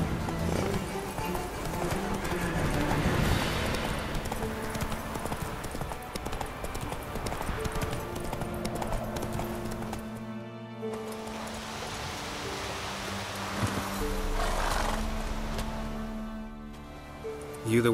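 Roach the horse gallops in The Witcher 3, a steady clip-clop of hooves running continuously under music and game ambience, with a brief pause midway before the rhythm resumes.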